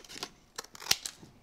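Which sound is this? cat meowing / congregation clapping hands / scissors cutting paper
scissors cutting paper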